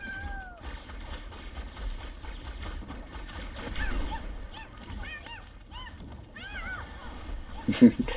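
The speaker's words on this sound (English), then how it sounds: "The cat on fire there, meowing very, very adorably." A burning cat in a competitive video game match meows in a string of short, high, bending cries over game noise and a commentator's talk, one louder yowl near the end.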